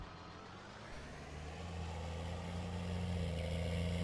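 A tractor engine in Farming Simulator 19 hums steadily at a low idle, then its drone rises and firms up as it revs gently, a quiet, continuous mechanical rumble with no speech.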